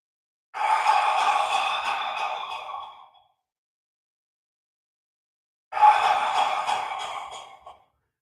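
Two long, deep breaths during a bone breathing qigong exercise, each a slow, airy exhale of about two to three seconds, close and alone, separated by a few seconds of silence.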